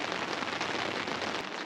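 Rain pattering steadily at a backcountry canoe campsite by a river, a dense, even hiss of drops hitting surfaces nearby, continuous and unbroken with no voices.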